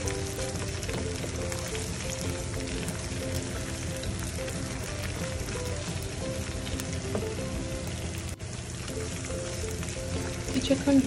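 Garlic and ginger paste frying in oil in a pan, a steady close sizzle and crackle that holds evenly for about eleven seconds and swells slightly at the end.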